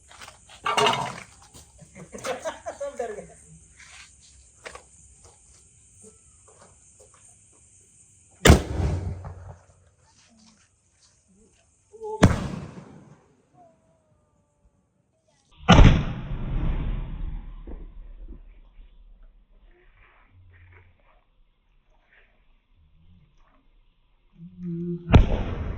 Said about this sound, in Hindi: नाइट एंजल सोनी की तरफ से बहुत बढ़िया स्काई शॉट है